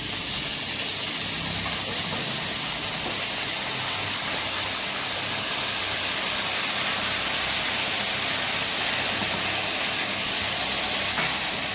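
Jackfruit vegetable bhaji sizzles steadily in hot oil, giving a continuous close, bright frying hiss with no pauses.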